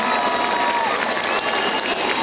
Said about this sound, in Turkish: Şimdi buradaki bulunan bütün gençlerden kendisini alkışlamasını istiyorum.